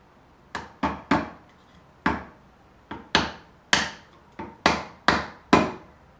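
A glued wooden wedge is hammered into the head end of a mallet handle, with about a dozen sharp, ringing wooden knocks in an uneven rhythm, close and loud with quick decays.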